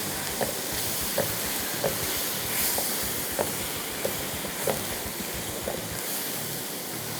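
Mango and coconut ladoo mixture with condensed milk being stirred and cooked in a pan, a low steady sizzle and soft scraping with regular faint spoon taps, no talking.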